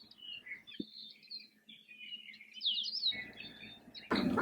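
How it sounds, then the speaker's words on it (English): Yellow-fronted canary, a small African passerine that feeds on grass seed in small flocks in grassy areas, gives a run of high, bright warbling song notes that rise into a rapid twittering flourish, with a faint low hum beneath. "Another small passerine, the yellow-fronted canary from Africa, are usually found in small flocks in the grassy areas feeding on grass seed."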